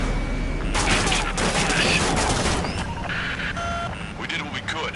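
Dense bursts of rapid gunfire while drone aircraft are shot down in Ace Combat 7, with loud booms and chatter mixed in and radio voices talking over the action.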